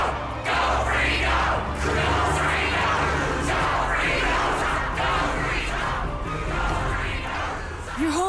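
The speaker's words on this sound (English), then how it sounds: "All these people are cheering for your big appearance." An animated stadium crowd at a Beyblade battle roars and chants in rhythmic surging waves, loud and continuous across the whole span, with no clear individual voices standing out.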